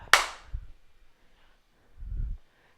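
A few scattered claps during a remote video-call warm-up practice: one sharp, bright snap near the start, then a softer thud, then a muffled dull hit after a pause, fairly quiet with no talk.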